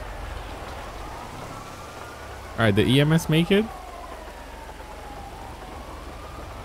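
Steady rain hisses across the whole stretch in GTA 5 on a highway patrol drive, with a low rumble of traffic beneath and someone talking briefly over it midway.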